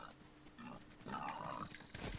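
A pig in Zelda: Breath of the Wild gives a short grunting oink, faint and close, over quiet game ambience.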